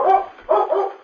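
A collie barks twice in quick succession in a vintage radio drama sound effect; the barks are loud, close and full-bodied.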